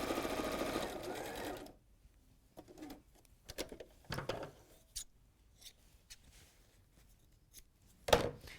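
A sewing machine stitches seams in a steady, dense whir for under two seconds, then stops, leaving scattered soft handling clicks and rustles and one sharp tap near the end.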